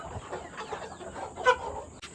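Chickens cluck softly at close range over a steady background hum, with one sharper call standing out partway through the short moment.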